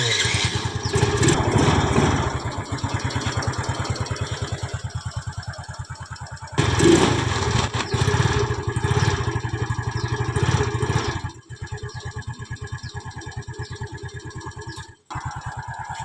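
A motorcycle engine fitted with a new starter motor cranks and fires, then runs with a loud, rapid putter that briefly revs and settles back to idle, cutting out near the end.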